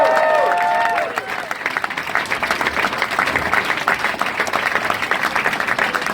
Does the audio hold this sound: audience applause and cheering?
yes